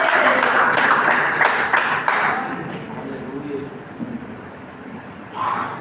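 Church congregation applauding, dense clapping for the first couple of seconds that fades into a murmur of voices and room noise, with a voice rising near the end.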